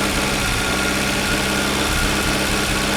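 A Peugeot 305 left 33 years in a hedge runs at a steady idle, its engine close and loud with an even, unbroken hum and faint mechanical whine.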